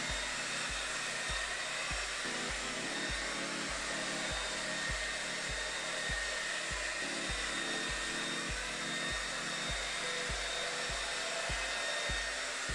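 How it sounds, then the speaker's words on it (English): Steady loud whir of a blow dryer running continuously while drying 4C hair after a protein treatment, with a low rhythmic pulsing throughout and no voices. "it says either a hooded dryer or just a regular blow dryer"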